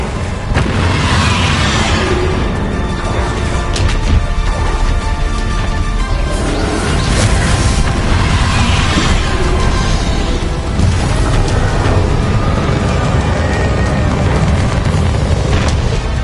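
Continuous loud, booming explosion effects from the Bombarda spell in Hogwarts Legacy roll on without pause, dense with crashes and bursts throughout.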